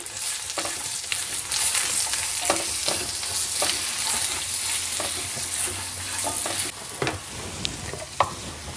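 A granola mixture with cardamom powder is stirred in a pan on a low flame, giving a continuous soft sizzle under repeated scraping and stirring strokes, close by with no talking.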